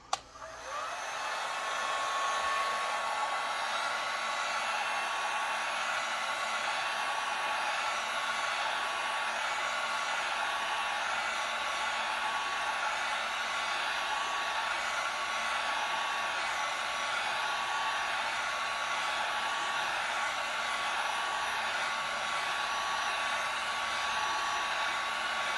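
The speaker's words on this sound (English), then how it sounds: "heat gun. We're going to use pretty high heat. I have mine turned up all the way" A heat gun set to high heat blows a steady, even whoosh for the whole stretch, close and constant, while it warms epoxy coated on a tumbler.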